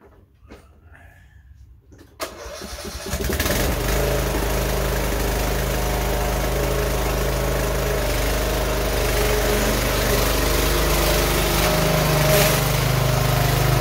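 A Cub Cadet LTX1042 lawn tractor engine cranks over, catches and then runs at a steady, loud drone after a few quiet clicks and knocks, with a brief pitch rise near the end.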